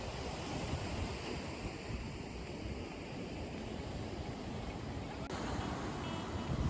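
Ocean waves wash steadily onto a foggy beach, a continuous broadband surf roar with wind noise buffeting the microphone throughout, no distinct individual breakers standing out.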